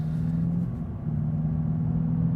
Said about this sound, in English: a very, very unique sounding engine, unlike a lot of the other cars that I've test drove.